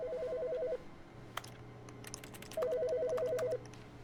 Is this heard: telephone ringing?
yes